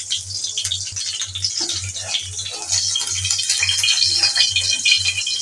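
An egg fries in hot oil in a pan over medium heat, a bright crackling sizzle over a steady, regularly pulsing low hum, growing slightly louder toward the end, with no talking.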